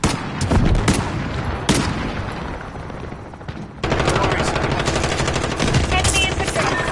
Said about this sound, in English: He's trying to shoot it.